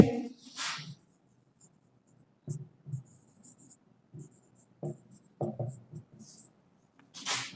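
Pen or chalk strokes during a math lesson on sets, arriving as short scratchy bursts separated by quiet gaps, with soft faint rustles between strokes.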